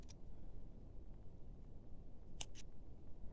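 Two quick, faint snips of scissors cutting crochet yarn, heard close up against a steady low background hum.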